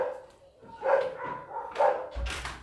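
A house dog barks in a few loud, separate bursts somewhere near a home studio, with a muffled, indoor quality and no talk over it.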